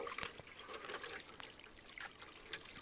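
Water runs and trickles steadily while dishes are washed outdoors in nature, a faint continuous splashing with small drips and clinks.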